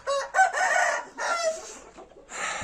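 Rooster crowing and chickens clucking in a home garden, several loud close calls in quick succession with brief pauses between, no talk.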